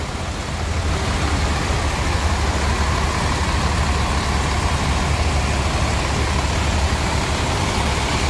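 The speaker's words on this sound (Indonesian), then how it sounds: "Nah, jet bus 5-nya udah berangkat." Steady engine rumble of a Jetbus 5 tour bus pulling away, a continuous loud low drone with road noise that holds evenly throughout with no talk.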